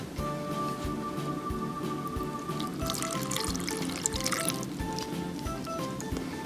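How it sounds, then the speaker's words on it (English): Water pours into a blender holding Thai curry ingredients, a close, continuous splashing trickle with soft regular taps, quiet and alone. "Now we are going to put some water"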